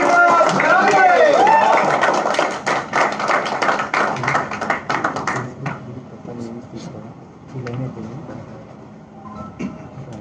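An audience at an office event in Hyderabad applauds, a loud dense burst of clapping that thins into scattered claps after several seconds, with voices over it.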